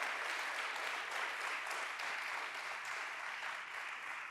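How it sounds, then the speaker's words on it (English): A large audience at a national forum on reparations applauds steadily, a dense, even wash of clapping that holds for several seconds without voices. "Would you give all of them a very large applause"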